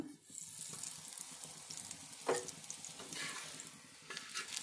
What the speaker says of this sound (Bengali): আস্তে আস্তে পরোটাটা সেঁকে নিতে হবে।